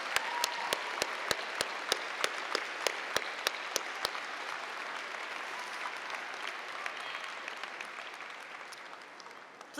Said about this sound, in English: let us give your family and friends a rousing round of applause